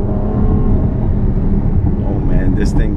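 2014 Ferrari F12 Berlinetta, an all-aluminum brand new car, with engine and exhaust giving a loud, steady low rumble and idle burble, while someone talks over it throughout.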